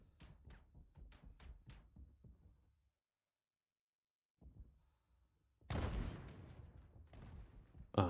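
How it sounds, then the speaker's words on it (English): Turret fire in the Star Citizen game strikes a ship as a rapid string of sharp shots, followed by a pause, a brief thud and then a loud, noisy rumbling burst of impact. "The turret is shooting at my ship?"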